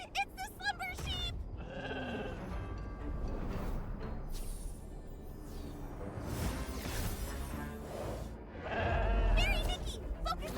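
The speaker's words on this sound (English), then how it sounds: "Ah, it's the slumber sheep!" Slumber sheep in the video game Infinity Nikki bleat with a few wavering calls at the very start and again near the end, set against game music and effects.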